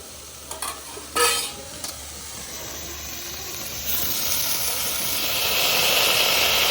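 Greens and their cooking water are tipped into a pan of sizzling Rajasthani laal maas mutton, giving a few sharp stirring clatters and then a steady, rising hiss of frying and steam.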